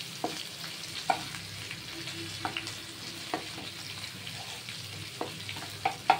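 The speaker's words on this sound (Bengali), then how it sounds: "আদা আর রসুনটা এবার ভাজা ভাজা হবে" Grated ginger and garlic fry in a pan for a fish-head mung dal, a soft steady sizzle broken by occasional sharp stirring scrapes and taps, close and moderately quiet with no talking.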